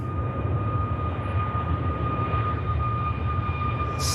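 A Ryanair airliner roars steadily on its takeoff roll and rotation, a loud continuous engine rumble with a sustained whine, heard close and alone.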